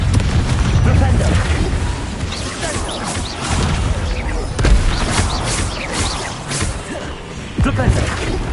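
Confringo fire spells in the video game Hogwarts Legacy set off repeated booming blasts, loud and close. Rumbling impacts come in irregular bursts throughout, mixed with battle noise and shouting.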